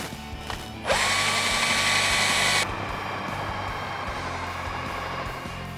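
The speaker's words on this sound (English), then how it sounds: "And now we're gonna drill some holes where you mark the point." A power drill whirs into plywood in one sustained burst of under two seconds, high-pitched and close, over a low background hum.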